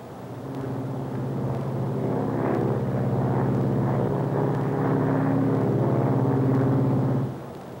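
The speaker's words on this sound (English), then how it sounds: "One of the most comfortable airplanes you could ever ride in." An Eastern Airlines Silver Falcon propeller airliner drones steadily in flight, a loud, even engine hum with a throbbing low tone heard from inside the cabin for about seven seconds.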